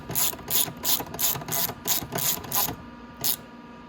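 A hand ratchet tightens screws on the voltage rectifier of a Venom X22R 250cc motorcycle. Close, loud, rhythmic clicking comes in about seven quick even bursts, then a pause and one final burst. No talking is heard.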